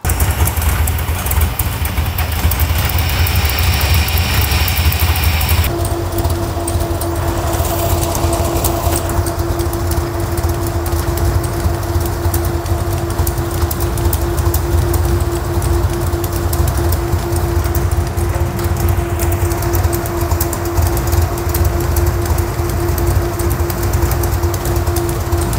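A large-cam V8 fitted with FiTech EFI idles loudly and steadily close by, a rough rumbling drone that continues throughout with a faint whine above it.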